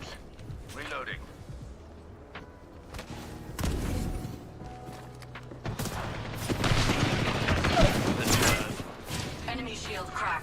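Rapid automatic gunfire and bursts from the Apex Legends shooter game, growing louder and denser toward the end, mixed with in-game sounds and a character's voice lines.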